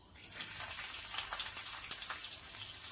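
Chopped garlic fries in about two spoons of hot mustard oil with black mustard seed and ajwain, giving a steady crackling sizzle with scattered sharp pops, close and moderately loud, with no voices.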